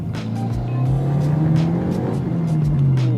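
Subaru WRX with added bracing and a fixed misfire accelerating hard in first gear, the engine note climbing loud and steady close by under the cabin, with no talking.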